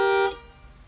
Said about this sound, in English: it'll honk twice and it'll say TPMS Manual Learning